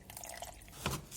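A little water is added to homemade sea moss gel to thin it to a paste, heard as a brief, close, quiet splash and drip with no talk over it.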